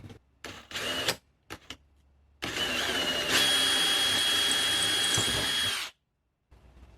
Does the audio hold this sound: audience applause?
no